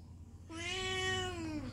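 A pet cat gives one clear, drawn-out meow, close and moderately loud, rising and then falling over about a second against a quiet room.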